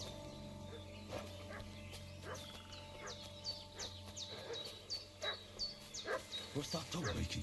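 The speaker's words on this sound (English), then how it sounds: "What's that dog making such a fuss about?" In the Kingdom Come: Deliverance 2 video game, a dog keeps barking and yipping at middle distance over a busy outdoor scene of birdsong and ambient noise, growing more frequent toward the end.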